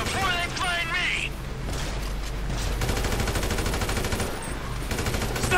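Rapid gunfire from shooters during a train robbery in GTA 5 rattles in dense automatic bursts through the middle and end, mixed with game sounds and a voice talking over it.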